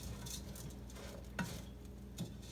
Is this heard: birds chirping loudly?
no